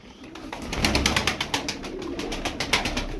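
Tumbler pigeons in a flock coo together in a steady, close murmur, with soft rhythmic calls and wing rustles layered over a low continuous background.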